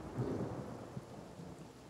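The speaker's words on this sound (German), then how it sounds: "Und nun mache ich Regen." A rain-and-thunder spell cast in the video game Divinity: Original Sin, with a low rumble of thunder and steady rainfall hiss at moderate level, no talking.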